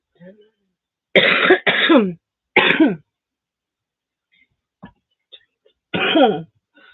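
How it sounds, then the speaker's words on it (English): Three harsh coughs in quick succession, then a pause and a fourth cough, close and loud against a quiet background. "I don't know why I'm coughing. I must have something in my throat."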